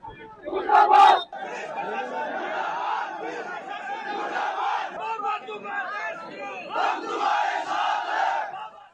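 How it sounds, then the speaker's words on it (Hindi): An angry crowd chants slogans against the police at a protest in Rajasthan, a loud massed roar of voices in rhythmic shouts, with one sharp peak near the start followed by sustained, swelling chanting. "पुलिस मुर्दाबाद के नारे लगा रहे हैं"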